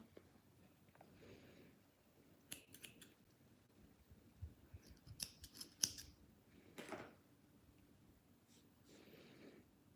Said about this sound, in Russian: На этом этапе я обрезаю ниточку.